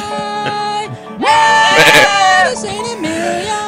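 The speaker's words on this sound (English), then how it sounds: "Yeah, now we got two goats." Two goats bleat loudly in turn, long wavering cries that overlap and rise at the peak, heard close on a morning radio show.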